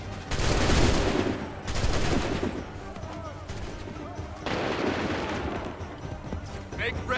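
Volleys of musket fire in Assassin's Creed 3 crack out in dense, loud bursts, one near the start and another in the middle, each trailing into a rolling rumble with battlefield noise between them.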